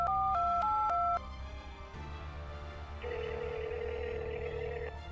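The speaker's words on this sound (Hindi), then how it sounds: "अपना फोन निकाल कर किसी को कॉल करने लगा।" A phone number is dialed as a sound effect in a Hindi audio drama: a quick run of keypad tones, then a short pause and a steady ringing tone under low background ambience.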